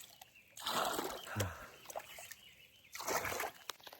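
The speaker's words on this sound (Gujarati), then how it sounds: "એટલે મારે છોડવાને પાણી આ રીતે આપવું પડશે" Water splashed from a tub onto newly planted saplings in a nursery, two separate pours with trickling and dripping in the gaps, close by, no speech.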